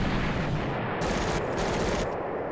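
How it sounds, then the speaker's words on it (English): Artillery fire in the World War II strategy game Panzer Corps: a dense, continuous burst of loud crackling gunfire and rumbling blasts fills the whole moment without a pause. "artillery"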